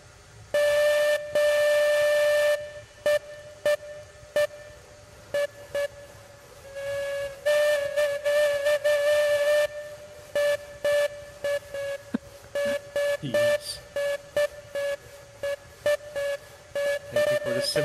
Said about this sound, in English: Symphony, the whistle symphony.